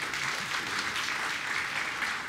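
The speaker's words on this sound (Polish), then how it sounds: "proszę jeszcze raz o burzę oklasków" Applause from the audience at an award ceremony, a dense, steady wash of clapping that holds evenly for the whole stretch without voices over it.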